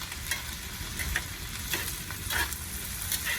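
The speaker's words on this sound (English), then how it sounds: "I just want to stir it up and get everything" Venison hash being stirred as it fries in butter in a pan over a cabin fire, with steady close sizzling and repeated scraping stirs throughout, no voices.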